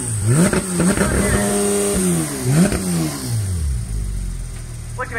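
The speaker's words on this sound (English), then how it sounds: "the incredible Porsche 911 GT3 RS. Come on. Come a bit closer. Get that engine revving." Porsche 911 GT3 RS engine revving at a classic and supercar show, loud and close, with repeated rising and falling rev sweeps over a steady idle and crowd noise around it.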